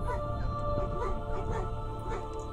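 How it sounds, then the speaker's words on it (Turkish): A beagle gives a string of yips and whimpering barks, close and fairly loud, over a constant background hum with a faint voice present. "Beagle."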